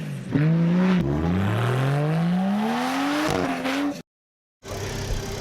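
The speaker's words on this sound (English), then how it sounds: "That's a pretty cruisy drive back down the beach" Barra-powered Toyota LandCruiser cruising along a beach, its engine note rising steadily through the gears with a loud, close drone, then cutting out briefly before resuming.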